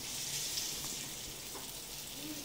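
Pieces of pointed gourd (potol) fry in a pan with a steady, close hiss of sizzling oil and small crackles, uninterrupted and moderately loud.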